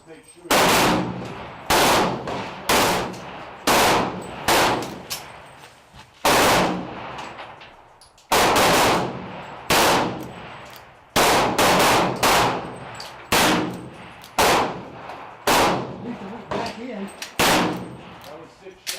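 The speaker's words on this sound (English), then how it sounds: "That was 6 shots. You only hit one." Outdoor gunfire at a target: loud, sharp reports at irregular intervals, each with a ringing decay, about a dozen or more in all, spaced one to two seconds apart.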